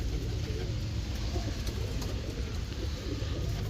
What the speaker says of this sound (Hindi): एक कबूतर ये बैठा हुआ है, ये देखें कबूतर